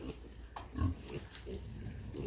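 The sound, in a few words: pigs on a farm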